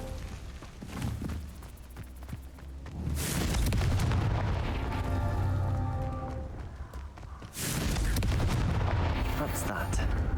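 Confringo fire spell blasts in the video game Hogwarts Legacy erupt as booming explosions, with a long roaring burst that fades and then a second heavy blast, loud and dense, over faint game background sound.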